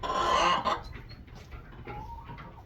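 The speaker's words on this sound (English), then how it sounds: "my egger flock, my new egger flock, has arrived with the rooster" Newly arrived laying hens and a Buckeye rooster clucking close by, a louder burst at the start followed by quieter scattered clucks.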